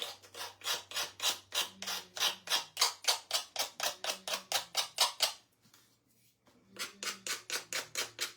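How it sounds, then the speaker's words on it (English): Rapid back-and-forth sanding strokes scrape glue off a gold picture frame, a steady rhythmic rasp close up that pauses briefly before starting again. "I have to try to sand off some of this glue I got on the top."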